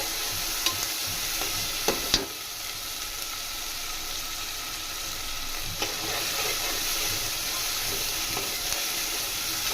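Ginger garlic paste frying with mutton head pieces in a pan, a loud, steady hiss and crackle of oil with occasional spoon clicks, close up and without voices.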